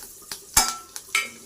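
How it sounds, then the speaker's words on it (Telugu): Tempering spices dropped into hot oil for a tomato curry, crackling and spitting in a few sharp bursts, with one loud pop near the middle, over a quiet sizzle. "ఇప్పుడు పోపు దినుసులన్నీ వేసేసుకుందాం"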